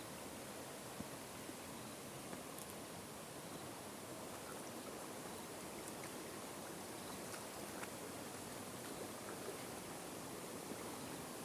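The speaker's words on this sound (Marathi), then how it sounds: "खाली पारा मोठा आहे." Water flowing in a stream in Konkan, a steady broadband rush that stays even and continuous throughout, moderately loud and close, with no voices.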